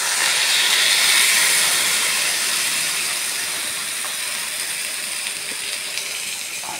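Water hits a hot pan of spiced food and sizzles loudly at first, a broad steady hiss that slowly eases over several seconds, with no talk.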